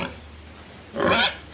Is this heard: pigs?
yes